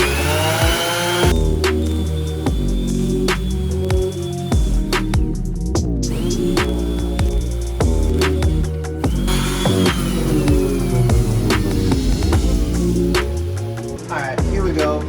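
A power tool trims the plastic front bumper lip of a 2008 Civic Si, loud and close, with buzzing bursts that rise and fall in pitch, a brief pause near the middle, then another long run of cutting.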